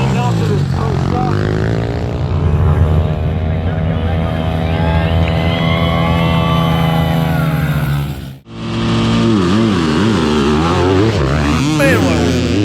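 Dirt bikes and ATVs roar through a drag race at Mountain Mayhem 2024, engines screaming loudly as they rev up through the gears, a brief cut, then more racing engines wailing up and down in pitch.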